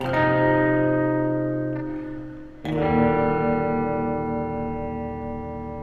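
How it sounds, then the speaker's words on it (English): Sustained guitar chords through a Klowra Limbo reverb pedal wash out in lush reverb with a wavering, wobbling shimmer, then a new chord rings in and decays slowly. "So all of these different kinds of reverb on this pedal do sound different."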